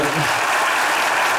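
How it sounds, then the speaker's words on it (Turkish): Dense, loud audience applause on a Turkish TV entertainment show, a steady continuous roar of many hands clapping close by, with voices faintly mixed in underneath. "Oğluma bir alkış rica ediyorum."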